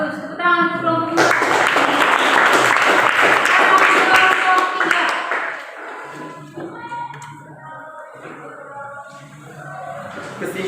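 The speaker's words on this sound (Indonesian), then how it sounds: "tepuk tangan untuk kelompok 5" Students in a classroom burst into lively clapping for a group that lasts several seconds, then it fades out and people begin speaking.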